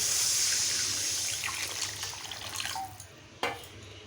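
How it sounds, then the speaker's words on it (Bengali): Water is poured from close by into a pan of curry cooking in spiced oil, a steady rushing pour that tapers off and ends with a sharp clatter. "এখন পরিমাণ মতো জল দিয়ে দেবো"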